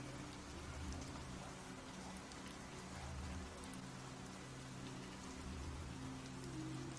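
Heavy rain pours down on the streets of Chinatown, a steady, dense hiss of drops hitting the pavement with no break, fairly faint and continuous.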